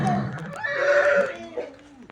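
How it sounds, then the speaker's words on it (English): Goats and sheep on a farm bleat in a brief, close animal call lasting about two seconds, with a voice and other people talking around it. "These are my goats and sheep"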